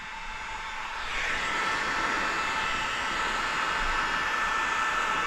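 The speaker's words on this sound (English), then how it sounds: "So in this area, we're just heat sealing this edge." A heat gun heat-seals the edge of paint protection film on a car, starting up and settling into a steady, loud, close blowing whoosh that runs without a break.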